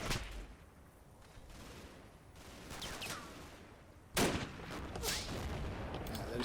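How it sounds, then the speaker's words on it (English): Scattered WWII small arms fire in Combat Mission: Battle for Normandy, fighting among the hedgerows. It comes as faint, distant crackling with a couple of sharper reports near the end and no talk. "I think we just had a bit of small arms fire going out from these guys pretty much."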